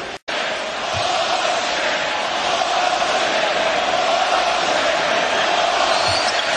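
A basketball arena crowd during a LeBron James game against the Boston Celtics roars in a sustained, loud wall of cheering and noise, with scattered whoops and no clear break.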